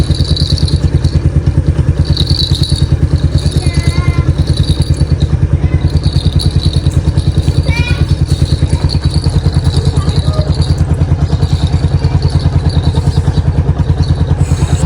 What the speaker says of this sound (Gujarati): ગાડીને થોડા ઘડી સ્ટાર્ટ કરીને મૂકી દઈએ, જસ્ટ થોડી ગરમ થઈ જાય